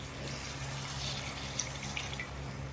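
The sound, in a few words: pouring water into a cooking pot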